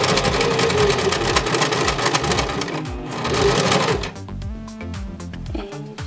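A home sewing machine runs a straight stitch, its needle clattering in a steady fast rhythm, loud and close, with the motor slowing and pausing near the end before a few slower stitches.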